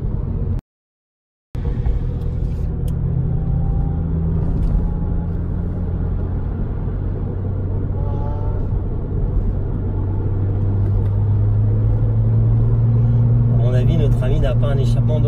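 A Lotus Exige engine with its stock exhaust runs in a steady, deep rumble close by, swelling slightly near the end. Someone talks over it.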